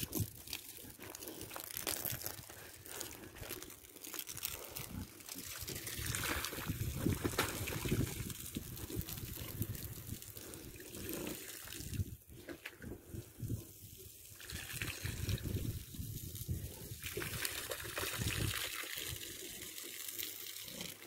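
Water is poured and splashed over a pig on a hot day, a steady broadband wash of gushing and trickling with crinkly, splashy texture that swells and eases over about twenty seconds, no voices audible.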